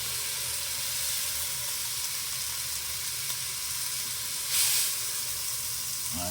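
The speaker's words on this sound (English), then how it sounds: "we're just searing it, locking the flavor" Beef short ribs sear in a hot pan with a steady, close sizzle and hiss, and a brief louder burst of spitting partway through.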